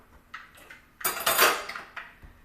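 Enchilada filling with added sour cream is stirred in a pan, giving a few light utensil scrapes and clinks against the metal, then a louder burst of scraping and mixing in the middle before it settles back to quieter stirring.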